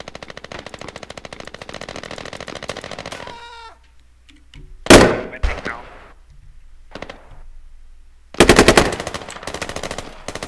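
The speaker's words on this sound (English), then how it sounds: "I'm taking shots in this house" Automatic rifle fire in the Squad military shooter video game arrives as rapid, steady bursts of loud gunshots, then a break with a few sharp nearby blasts and another fierce burst toward the end.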